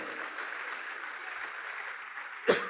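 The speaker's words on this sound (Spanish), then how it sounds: "Démosle fuerte las palmas al bendito" A church congregation claps together in steady, dense applause that fills the room at moderate level, with one sharp louder hit near the end.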